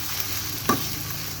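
Dried shrimp stirred in a frying pan for a bamboo shoot dish, a low steady sizzle with one brief scrape of the utensil partway through, close and alone.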